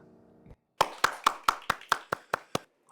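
Close, sparse hand claps from a small audience at a Korean talk-show music segment, about nine sharp, evenly spaced claps in a steady rhythm after a soft lead-in, with no voices.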